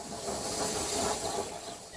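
A steam engine hisses out a cloud of steam, a continuous loud, broad rush with faint rail rumble underneath, and no voices.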